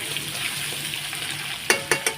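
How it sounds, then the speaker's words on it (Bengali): Soybean chunks and potato frying in a home kitchen pan give a steady soft sizzle, with a few sharp clatters of stirring near the end. "তা ভেজে নিচ্ছি লাল লাল করে"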